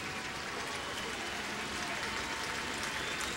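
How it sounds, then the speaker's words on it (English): A sold-out crowd of about 45,000 at Busch Stadium applauds and cheers at a Padres versus Cardinals baseball game, a steady dense wash of clapping and crowd noise throughout. "Cardinal fans are on their feet."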